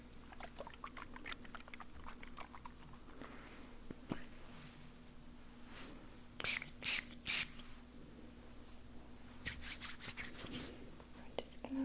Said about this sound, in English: I'm just going to use a little more of that moon spray.